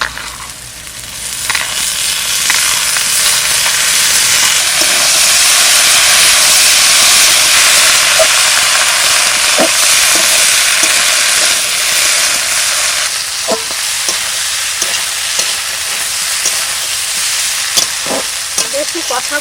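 Potatoes and prawns fry in a hot pan, a loud, continuous hiss that dominates throughout and eases slightly toward the end, where a few faint clinks and stirring taps break through.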